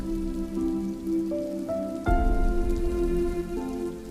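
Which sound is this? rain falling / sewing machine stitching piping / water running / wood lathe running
rain falling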